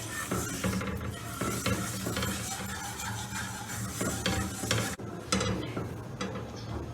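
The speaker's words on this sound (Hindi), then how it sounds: "अब 3/4 कप शुगर डाल के हमने इसको पकाना है जब तक शुगर मेल्ट नहीं हो जाती" Sugar cooking in melted ghee in a pan over very low heat for makhandi halwa, a soft continuous sizzle with repeated scraping and clinking of a spoon against the pot, close and fairly quiet.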